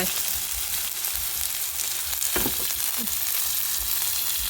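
Oil hissing and sizzling steadily in a hot pan, a continuous frying crackle with a few brief louder spits and scrapes, close and alone with no talk.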